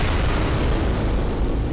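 A thrown Molotov bursts into a roaring blast in Bloodborne, a loud, sustained rumbling explosion filling the whole moment with no speech.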